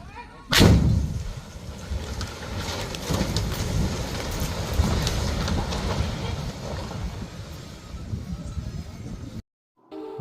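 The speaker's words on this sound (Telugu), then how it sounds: "ఆ అధునాతన భవనం క్షణాల్లో కూలిపోయింది, నీటిలో కలిసిపోయింది" Bombs set under the pillars bring down a guest house standing in a lake, a loud sudden blast followed by a long rumbling roar of collapsing debris and splashing water, ending abruptly.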